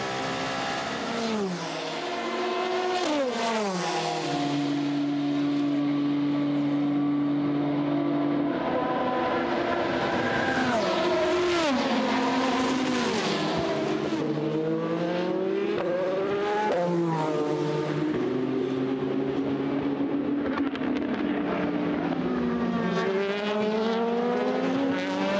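A Dragon Speed Oreca race car pulls into the pits during the 2020 24 Hours of Le Mans. Its engine note is loud and continuous, rising and falling repeatedly in pitch as it revs and slows, with no talk over it.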